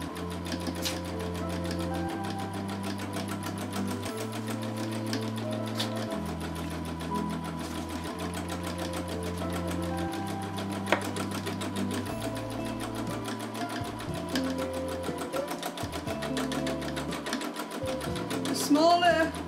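A sewing machine runs steadily through free-motion stippling embroidery, its rapid needle chatter continuous and fairly close, shifting pitch as the speed changes, with no voice heard over it.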